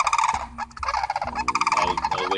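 Turkeys gobble at night in a rapid, warbling burst and then a second gobble, faint and distant but clear, with no voices over them.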